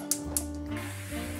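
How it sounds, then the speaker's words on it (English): Cooking spray is sprayed into a pot for potatoes in a few short hissing bursts, close and fairly quiet, with no talking. "A little cooking spray."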